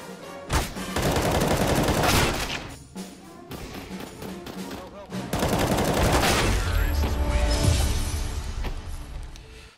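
Gunfire from a CZ pistol in a video game, heard as loud dense volleys of rapid shots that dip briefly in the middle and then return, with a thud near the end.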